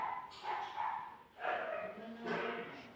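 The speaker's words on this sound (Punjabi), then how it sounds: "ਕੋਈ ਆ ਜੇ ਫਿਰ ਭੌਂਕਣੋਂ ਨਹੀਂ ਹਟਦੇ ਇੰਨਾ ਭੌਂਕਦੇ ਬਹੁਤ ਜ਼ਿਆਦਾ" A household dog barks in about three separate bursts, fairly close and moderately loud, with short gaps between them indoors.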